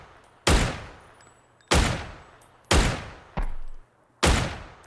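Gunfire in PUBG: five loud, sharp single shots roughly a second apart, each with a sharp attack and a decaying tail, close and dominant with no talk over them.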